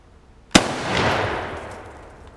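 A single sharp shot from an Oviedo Mauser .308 rifle hitting a target outdoors, a sudden loud crack followed by a brief scattering, decaying burst of debris noise, then quiet.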